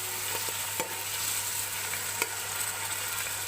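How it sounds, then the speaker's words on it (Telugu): Chicken pieces frying in oil in a pan for a sorrel leaf curry, a steady close sizzle with a few sharp spatters and stirring knocks, no voices. "ఈ ఆయిల్లో ముందుగా చికెన్ వేసి చికెన్ని చక్కగా వేపుకోవాలి."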